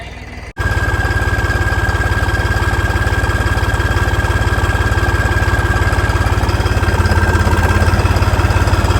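A Holland tractor engine idles steadily and loudly close by, a low continuous throbbing rumble with a faint whine above it, starting after a brief quieter moment and running unbroken to the end.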